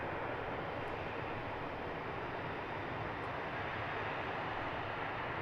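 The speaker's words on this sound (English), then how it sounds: "The inbound is Wizz Air flight 9090. It's an A320-200." Wizz Air Airbus A320-200 arriving at Luton Airport, a steady broadband jet roar that holds evenly loud throughout, with no talk over it.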